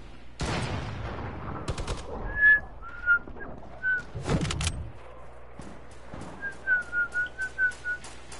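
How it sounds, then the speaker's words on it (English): A person whistles a string of short tonal notes in bursts during a Food fight game session, mixed with sharp gunfire cracks and clatter, the last run of quick notes coming fairly close. "you're still whistling"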